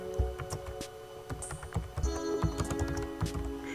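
Student names are typed on a computer keyboard, with a rapid, irregular run of light key clicks and taps, close and fairly quiet with brief pauses between bursts.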